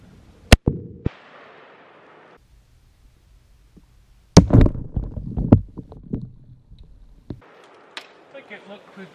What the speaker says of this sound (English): first, the 7mm Remington Magnum. Let's try to shoot this sucker dead center.